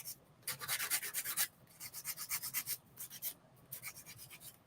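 Gel nails being filed, a soft, close, rhythmic rasping in quick back-and-forth bursts, pausing briefly between sets of strokes.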